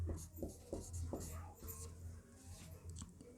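Marker or chalk writing on a board during a science lesson, a run of quiet scratchy strokes and taps in irregular rhythm, close and faint, with no clear talking over it.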